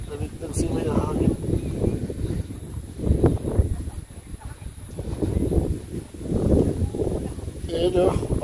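Steady wind rushes and buffets outdoors at Caliraya Lake, roaring across the microphone throughout, with people talking intermittently underneath.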